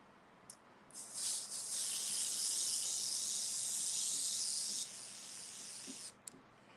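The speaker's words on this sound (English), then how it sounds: "I am now going to be airbrushing red." An airbrush sprays red paint in a steady hiss lasting several seconds, with a few short bursts before and after and faint handling noises around it.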